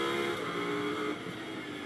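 A pack of Lamborghini Super Trofeo race cars at the Nürburgring roars past together, with a loud, dense, sustained engine drone that fades slightly as the group moves away.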